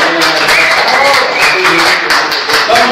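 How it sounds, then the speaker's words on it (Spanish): Radio studio guests giving a round of applause, brisk clapping mixed with voices and chatter, close and fairly loud. "pues un aplauso."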